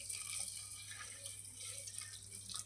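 A small amount of water trickles into a fish curry masala mixture for jilebi fish curry, a faint, close pouring and dripping sound over a low steady hum.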